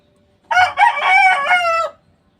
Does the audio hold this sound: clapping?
no